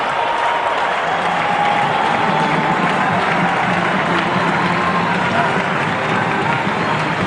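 A cricket crowd at Adelaide Oval roars and applauds a huge six, a dense, steady wash of cheering and clapping that stays loud throughout, with a commentator talking over it.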